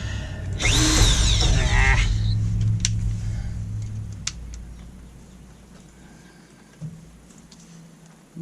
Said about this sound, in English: Nothing like drilling into steel with titanium coated steel right above fuel tank.